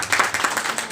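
Brief, close clapping from a small group at a team planning meeting, a quick burst of uneven claps over about one second.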